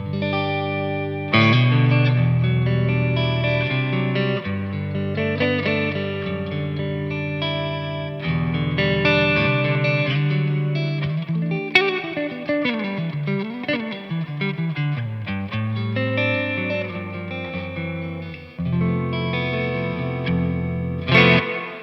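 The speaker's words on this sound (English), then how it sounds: "So that's the reverb, it's fantastic" Electric guitar played through a Victory Lunchbox amp head and cab with reverb on and no pedals, ringing chords and melodic lines that swell and bloom with a lush, shimmering tail, steady and clear without speech.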